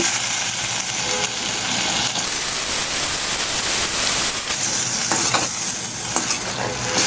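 Potatoes tipped into hot oil in a pan set off a loud, dense, continuous sizzle close by, with constant crackling that swells and eases slightly as they fry.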